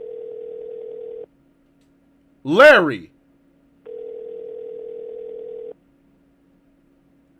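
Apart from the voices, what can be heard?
phone call tone in a video game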